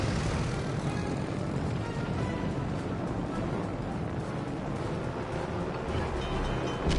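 Warplanes droning steadily through a torpedo-bombing run in a PS4 video game, a dense continuous engine roar holding at loud, even volume throughout with no voices.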